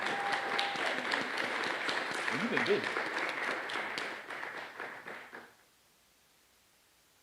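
A conference audience applauds as a speaker walks to the stage, steady clapping with a brief spoken remark and some talk mixed in, thinning out before stopping abruptly into near silence.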